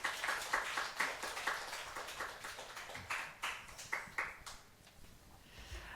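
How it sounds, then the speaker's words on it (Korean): Church congregation clapping to welcome the pastor at a Sunday afternoon service, scattered hand claps forming a modest, uneven round of applause that thins out toward the end, fairly faint and distant. "우리 목사님 나오실 때 박수를 크게 환영하겠습니다."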